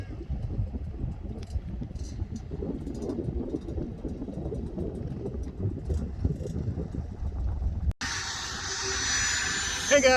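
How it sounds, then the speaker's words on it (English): A jet aircraft takes off in the distance near a paramotor trike at Lake Wales, a broad steady roar that holds through the clip under nearby voices. It ends in a brief cut and a harsher, brighter noise. "We got a jet taking off in the distance here"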